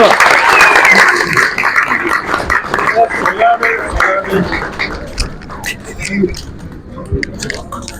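Audience applause at a film gala premiere, dense and loud at first, thinning into scattered claps while voices talk over it.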